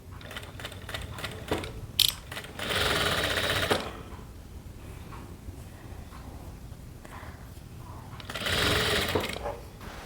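Sewing machine stitching a salwar, running in two loud bursts of rapid mechanical needle clatter separated by quieter handling and fabric noise, close up with no talk.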